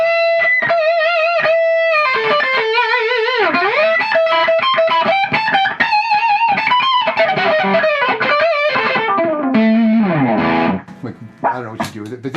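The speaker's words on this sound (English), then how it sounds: "If I want super fuzz, I just add the golden acorn to it." Electric guitar runs through a wet/dry rig with a Golden Acorn fuzz pedal stacked for super fuzz, playing a loud, heavily distorted lead line of sustained, bending notes that drops to low, gritty notes at the end.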